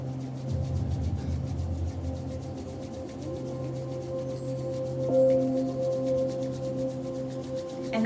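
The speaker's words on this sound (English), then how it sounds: "Keep your eyes closed and keep rubbing your palms." Palms rub together continuously, a soft, steady swishing friction close by, with faint background hum and tones underneath.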